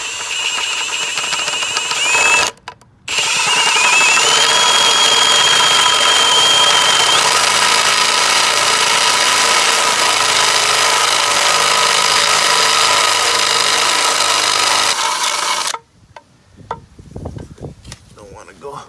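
A drill bores a 1-inch hole in a Honda Civic transmission case, a loud, sustained high whine running continuously for several seconds, interrupted by a brief pause and stopping near the end with clatter afterward.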